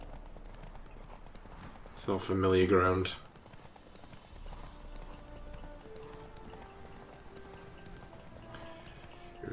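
Roach the horse gallops in The Witcher 3, with rhythmic clip-clopping hooves running steadily throughout while a voice speaks loudly over them for about a second.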